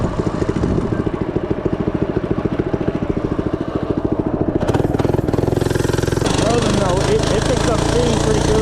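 An FRP GMB-100 minibike engine running while ridden, a loud, close, rapidly pulsing putter that rises in pitch and intensity as it picks up speed, steady throughout with no talk.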